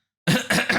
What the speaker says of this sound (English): Maybe I should clear my throat.